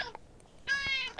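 A cat in Harry Potter: Hogwarts Mystery gives a clear, drawn-out meow near the end, close and moderately loud, after a brief quieter chirp.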